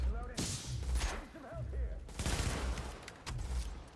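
Enemy gunfire in the video game The Division: repeated bursts of rapid shots that come and go in waves, fairly loud, mixed with some voice-like sounds.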